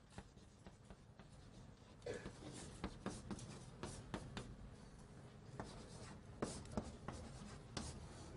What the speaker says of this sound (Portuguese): eu vou escrever direto aqui